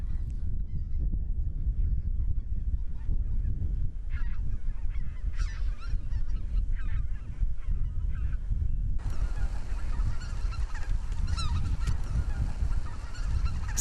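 A large flock of migratory winter geese honks continuously, many overlapping calls over a steady low rumble, with a brighter burst of calling toward the end.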